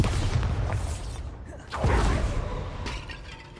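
Bombarda spells blast apart objects in the Hogwarts Legacy game. A rumbling impact opens, then a sharp whooshing explosion follows, and shattering, crashing debris fades into a low rumble.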